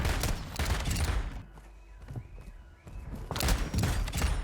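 X13 Auto pistol firing in the Warzone video game, rapid fast-cycling shots in dense bursts at the start and end with a quieter gap between, loud and close.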